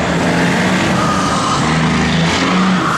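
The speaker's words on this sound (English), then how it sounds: "Give it a little rev, Dale." A 1980 Chevrolet Camaro engine is revved while the car sits in park, producing a loud, close, continuous roar that swells and eases slightly across a few seconds with no talking over it.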